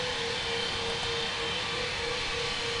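Steady jet airliner engine roar from a Virgin Atlantic plane in Flight Simulator X at Heathrow, a broad continuous whine with a constant tonal hum, loud and unbroken with no talk.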